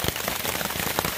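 Steady rain on the Appalachian Trail after a night of thunderstorms, a close, dense patter of drops striking surfaces with a constant hiss and occasional louder splats.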